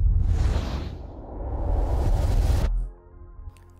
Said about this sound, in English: I used another riser along with some whooshes layered on top of each other as the montage